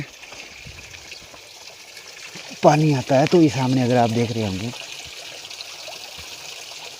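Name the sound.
water falling into a traditional gharat water mill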